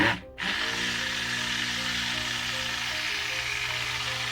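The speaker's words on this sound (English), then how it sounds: "I'm going to start on low, and I'm keeping that blender down pretty darn low." A stick blender runs steadily on low, whirring as it mixes lye soap made from pig fat, after a brief start-up dip, continuous and close with no talk.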